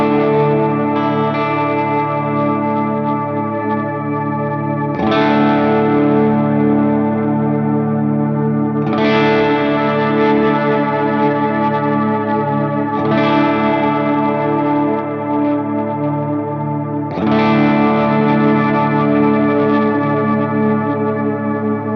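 Guitar chords wash through a Walrus Audio Slöer stereo ambient reverb pedal with the X knob's modulation engaged, each strum blooming into a long, shimmering, wavering tail roughly every four seconds, with no talking.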